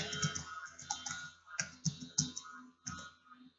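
Typing an old password on a computer keyboard for a Roblox account, with irregular bursts of clicky keystrokes and short pauses, close and fairly quiet, with no talking.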